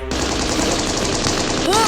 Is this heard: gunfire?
yes